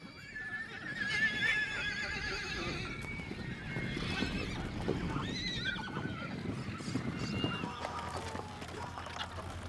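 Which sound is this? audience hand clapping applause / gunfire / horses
horses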